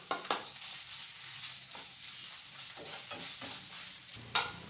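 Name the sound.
sautéing spices in a pan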